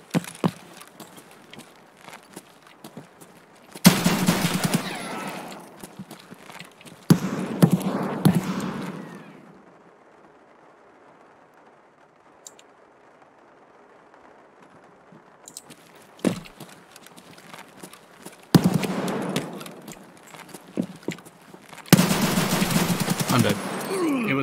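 Bursts of AK rifle gunfire in a video game, loud close rapid volleys lasting a few seconds each, separated by quieter stretches of faint movement and a long lull in the middle.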